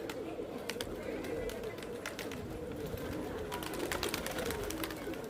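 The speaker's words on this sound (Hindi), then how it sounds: "बहुत अच्छा कबूतर है माशाल्लाह" Rajasthani pigeons coo softly in a loft, low continuous cooing under steady background noise and faint rustling, while someone talks nearby.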